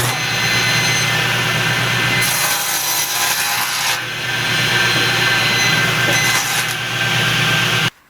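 A hand saw rips steadily through wood, cutting the cheeks of lap joints for a folding sawhorse, a continuous loud rasping with brief pauses between passes and no talk.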